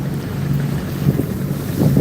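A river launch travels along with a steady low engine drone under heavy wind buffeting the microphone and rushing water.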